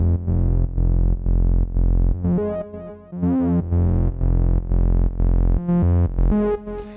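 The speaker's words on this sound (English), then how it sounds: "I wanted to bring in some additional distortion just to thicken out the sound" Thick, distorted synth bass from a Multiphonics CV-1 modular setup plays a loud, pulsing riff of short repeated notes with brief gaps, its tone growing brighter and more harmonically rich toward the end, heard alone without voices.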